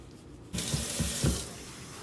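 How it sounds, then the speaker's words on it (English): Tap water gushing while hair is rinsed during a wash, switching on abruptly and running loud and steady with a few splashy surges. "now we're gonna thoroughly rinse her"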